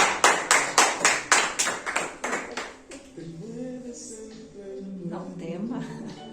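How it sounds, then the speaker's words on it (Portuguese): Around a dozen sharp, evenly spaced claps ring out in a steady rhythm from a church congregation, then stop as a voice begins speaking. "Podem aplaudir, podem aplaudir."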